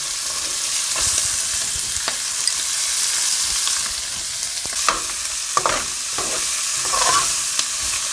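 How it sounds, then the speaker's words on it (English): Onions tossed into a hot pot for a seafood boil with lobster, conch, shrimp, mussels and grouper, hissing and sizzling close up with intermittent stirring scrapes and clatters, no talking. "this is where we're going to add our onions"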